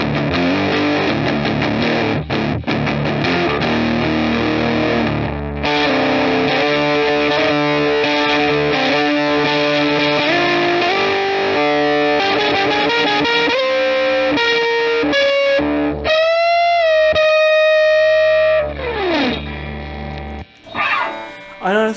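Electric guitar loop through a Behringer HM300 Heavy Metal distortion pedal, loud and sustained, with buzzy, saturated tone and rising bent notes near the end before it cuts off.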